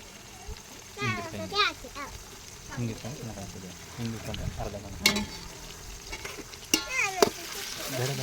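Tomatoes go into biryani frying in a pot over a village wood fire, giving a soft sizzle and stirring scrapes while children and adults talk over it throughout.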